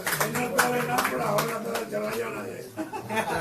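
Audience at a Punjabi-Urdu poetry gathering breaks into applause, dense rapid clapping mixed with some chuckles, sustained across the whole stretch, with a voice speaking over it.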